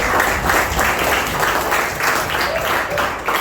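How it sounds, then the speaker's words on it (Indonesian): A crowd applauds in a sustained burst of many hands clapping, fairly loud and even throughout, with no voices standing out. "Tepuk tangan buat Otis"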